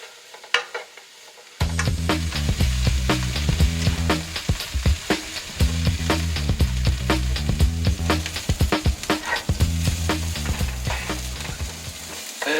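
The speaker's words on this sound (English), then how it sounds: "let's go ahead and saute our onion and our green pepper" Sliced onion and green pepper sauté in a hot pan, a loud, continuous sizzle broken by the scrape and clatter of stirring. A brief quiet opening gives way to steady frying up close.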